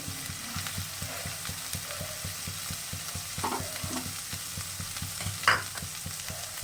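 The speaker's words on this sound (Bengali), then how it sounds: "দিয়ে একটু ভালো করে কষিয়ে নিতে হবে এটাও হালকা কষাতে হবে" Ingredients being sautéed in a pan while stirred, a loud continuous sizzle cut by regular scraping strokes of a spoon, with one sharp clink near the end and no voices.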